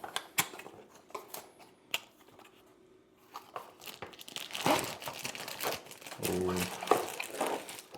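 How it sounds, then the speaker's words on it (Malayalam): Packaging of a K&F Concept tripod crinkles and tears during unboxing, sporadic close rustling and crumpling that grows busier toward the end, with a few handling knocks. "ജസ്റ്റ് ഒന്ന് അൺബോക്സ് ചെയ്ത് നമുക്ക് നോക്കാം."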